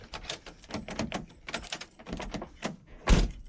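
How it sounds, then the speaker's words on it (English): Central locking on a BMW E36 actuating both doors, heard as a series of soft mechanical clicks and rattles followed by one louder, sharper thunk near the end, close and quiet overall. "now you can hear it locks both doors."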